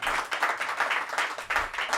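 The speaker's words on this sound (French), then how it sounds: "bravo, on peut l'applaudir" A studio audience claps during a sports talk show, a dense continuous patter of hands lasting a couple of seconds with no talk over it.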